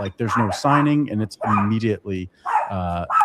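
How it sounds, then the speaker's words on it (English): A dog barks and whimpers in a home while someone talks over it, the yips and barks mixed in close with his speech. "Sorry about the dog."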